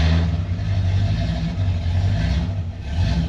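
A 1966 Ford Mustang Fastback with its choke freshly adjusted runs loud and close, its engine holding a steady, throaty rev with slight swells in intensity throughout.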